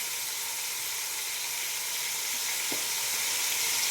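Tomatoes and onion fry in a large pot with a steady, bright, continuous sizzle that holds evenly throughout, close and moderately loud, with one brief soft knock.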